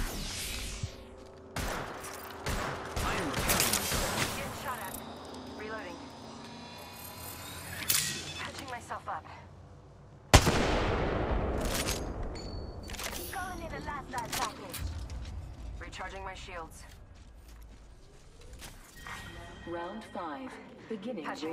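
Kraber sniper rifle in a video game firing several sharp, loud cracks with scattered impacts and mechanical clicks between them, while voices talk over much of the action.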